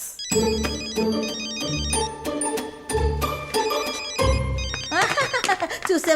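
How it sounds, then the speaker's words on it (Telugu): A phone ringtone plays loudly as a bright electronic melody with repeating tones, followed by a quicker warbling ring near the end. "రింగింగ్స్"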